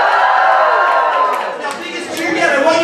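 Comedy show audience at an off-off stand-up night cheers and whoops together, a loud sustained crowd roar with scattered shouts that dips briefly in the middle before swelling again.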